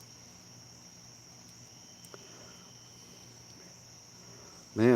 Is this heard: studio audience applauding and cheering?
no